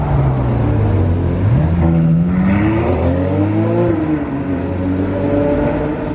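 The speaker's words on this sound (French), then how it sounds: "On va voir s'il envoie un petit peu sur le V12." A Ferrari V12 engine rises and falls in pitch as it revs, loud and close, with a smooth, steady whine that builds and then settles.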